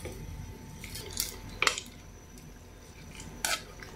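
Bihon and canton noodles being mixed together for pancit, a few quiet clinks and scrapes of a utensil against a pan or pot, spaced out over soft kitchen background.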